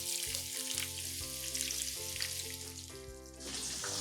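Four shredded onions frying in a pan with toasted whole spices for a Punjabi curry base, giving a steady bright sizzle with no talk.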